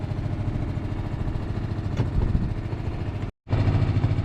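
A sailboat's motor runs steadily while leaving an anchorage at the Benjamin Islands, a continuous mid-pitched engine drone with steady vibration, broken by a brief dropout near the end before it resumes.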